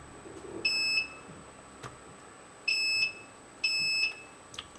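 Continuity beeps from a multimeter set to beep mode while checking the fuses of a short-circuited passive PC: three steady, fairly loud high-pitched tones of about half a second each, with short quiet gaps and faint clicks between them.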